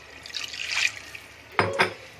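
About a liter of water is poured into a pot of cleaned goat trotters for paya curry, a brief close splash followed by two short sloshing pours.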